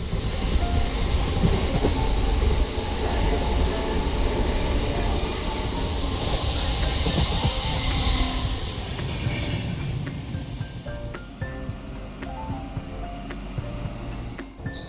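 A passenger train in Kerala rolls along with a loud, steady rumble and rattling carriage noise heard from inside, easing slightly in intensity toward the end, with occasional clicks and no voices.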